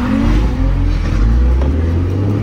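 A BMW E36 race car engine revs hard and loud at a track day, a close, continuous growling roar with rising pitch sweeps, with no voices over it.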